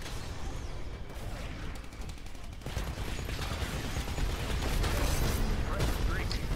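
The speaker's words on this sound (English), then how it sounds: "That'll pick up another kill with the chain gun." A chain gun fires in the Titanfall video game, with dense, sustained rapid shots mixed with other battle noise, loud and continuous throughout.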